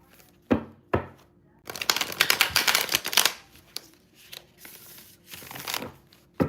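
Tarot cards being shuffled in quick riffling bursts, with a few sharp taps before and after a dense, crackling run of shuffling close by.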